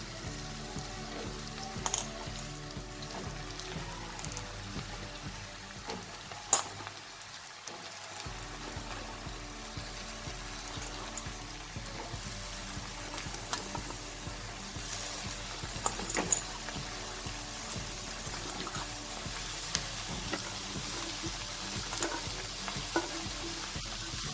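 Pieces of snake gourd frying in hot oil in a pan, a steady close sizzle with occasional stirring clicks and scrapes, continuing without talk.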